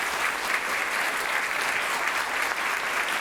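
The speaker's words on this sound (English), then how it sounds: "Keep on clapping for Felix at the camera, Oliver at the Technique, and all the staff" Sustained audience applause after a science lecture presentation at Berlin Science Week, an even, continuous wash of many people clapping at steady volume.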